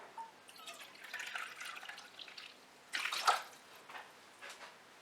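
Water pouring and splashing into a container, one cup of water for simple syrup, faint and close, with a brief louder splash midway and scattered drips.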